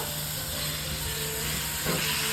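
Minced meat with garlic-ginger paste sizzles in hot oil as a steady, dense hiss that carries on throughout, with a faint tonal hum underneath and no talking.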